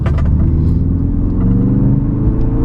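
A 345 bhp Ford Focus RS on the road: a steady, loud engine drone with a deep rumbling hum, held at an even pace while driving gently, with no voices.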